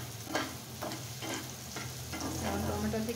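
Chopped vegetables sizzle and fry in a pan before tomato is added, with stirring scrapes coming at intervals over a steady crackle, close and quiet.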